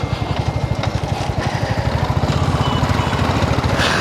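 Motorcycle ridden through a vegetable market in Mahuva, its engine close and loud with a fast, steady pulsing putter that holds throughout.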